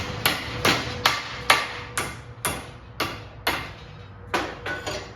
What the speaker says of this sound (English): I'm gonna hit them with a sledgehammer.